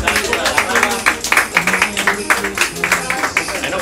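Applause from customers at a butcher shop's Christmas gathering, a dense crackle of many hands clapping steadily throughout, mixed with voices talking underneath.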